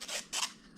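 A Kershaw Skyline knife blade slices through paper in two quick, crisp, scratchy cuts close by, each lasting about a fifth of a second, with no one talking.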